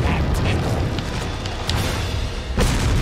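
Booming blasts from a bazooka fired in a video game, a dense rumbling roar with sharper bursts near 0.5, 1.7 and 2.6 seconds, loud and continuous throughout.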